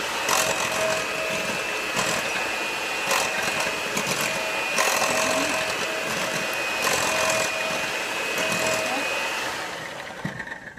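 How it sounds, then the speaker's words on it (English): An electric hand mixer beats chocolate cake batter in a bowl with a steady, whining motor hum and faint rhythmic pulses, close and continuous before easing off at the end. "So we're going to mix that with the mixer."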